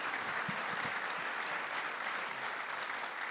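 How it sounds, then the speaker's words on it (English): Dense, steady applause from an evening audience honouring golf champions, many hands clapping evenly and continuously from start to finish with no voices standing out. "let's give these guys a round of applause"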